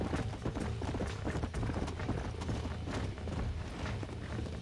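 Galloping horse hooves in a Wild West video game pound in a fast, steady clip-clop rhythm, close and continuous, with no talk over them.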